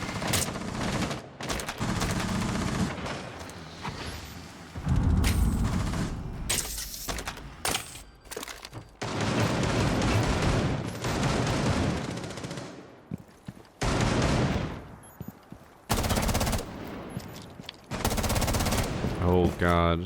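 Bursts of automatic gunfire from a tactical shooter match come in repeated volleys separated by short gaps, loud and close, with a few sharp impacts in between.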